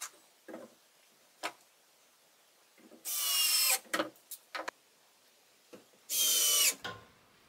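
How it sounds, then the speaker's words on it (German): Table legs being screwed onto a wooden tree-trunk slab to make a side table, with two sustained bursts of a cordless power screwdriver running and scattered clicks and knocks of handling between them, fairly quiet. "Und dann schrauben wir die mit den mitgelieferten Schrauben fest."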